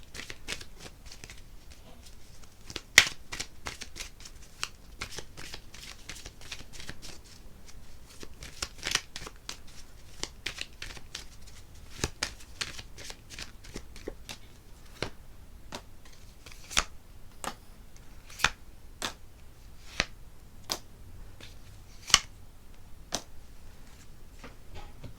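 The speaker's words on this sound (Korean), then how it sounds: "제가 추가 카드를 한번 뽑아볼게요" Tarot cards being shuffled, a run of crisp riffling and tapping bursts, some single sharp clicks and others in quick clusters, close and fairly quiet, with no talk over them.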